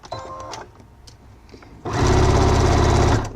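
A sewing machine stitches the four sides of pinned wallet pieces together, starting after a few quiet handling noises and running in a loud, fast, steady burst for over a second.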